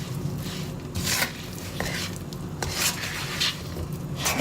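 A spoon or spatula stirs spices into chickpeas in a pan, giving steady scraping and rubbing with a few light clinks of metal against the pan, close and continuous, with no talking.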